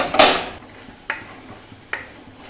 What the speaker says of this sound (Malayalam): അതിങ്ങനെ ഇളക്കി കൊടുക്കുക.